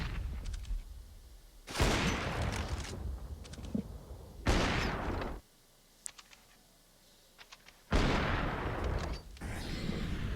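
Gunfire in a CS:GO pro match on the map Nuke, with bursts of loud, sharp shots and clattering in three dense blocks separated by quieter gaps with faint clicks.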